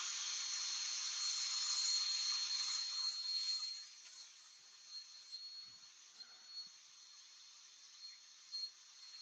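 Sandpaper rubs against a spinning root ball on a wood lathe, a faint hissing scratch that is steady for a few seconds, then drops away to quiet soft scuffs.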